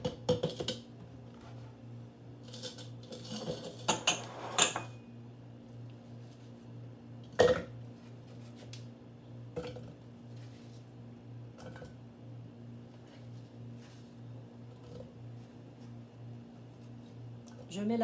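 Apple cubes are tipped into a bowl in a quiet kitchen, making a few sharp clinks of dishes and cutlery spread over a low background hum, with a person talking at times.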